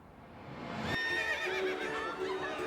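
A horse at a medieval-themed fair with jousting gives a loud, drawn-out whinny with a wavering, rising-and-falling pitch, close by and heard alone for a few seconds.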